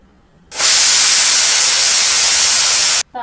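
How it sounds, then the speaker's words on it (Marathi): A pressure cooker cooking urad dal releases its whistle as one loud, sustained burst of hissing steam that starts abruptly and stops just as sharply, close by. "कुकरला तीन शिट्ट्या करून घ्यायच्या"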